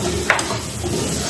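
Garlic frying in a pan and being stirred, a dense steady sizzle with a couple of brief utensil scrapes near the start, close and loud.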